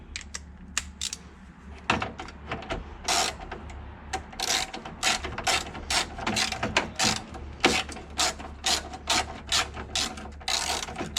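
A socket wrench ratchets while a bolt is worked during reassembly of a Jaguar MKII, producing loud, close bursts of rapid clicks that repeat in short strokes with brief pauses between them.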